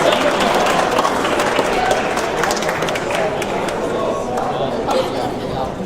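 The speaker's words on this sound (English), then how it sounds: "Let's give them a round of applause" Audience applause and cheering at a VEX V5 robotics competition in Wasatch, a dense crowd clapping steadily under busy chatter and an announcer's voice for several seconds.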